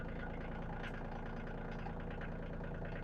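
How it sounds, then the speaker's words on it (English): Tractor with a front loader idling in a steady, low, rumbling drone, constant and unbroken throughout, quiet and even with no voices over it. "I've got the tractor running."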